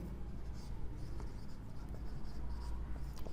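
Soft continuous scratching of a pen or pencil writing by hand on paper while working a math problem, faint and steady over low background hum.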